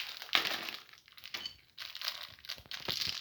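A plastic Lego Minifigures sachet from the DC series crinkles and rustles up close as it is opened and handled. Bursts of sharp crackling come and go over about three seconds, with no talking.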